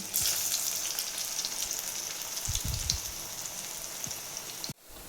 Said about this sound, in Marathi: तापलेल्या गरम तेलात आळू वड्यांचे केलेले तुकडे असे सोडायचे आणि तळून घ्यायचे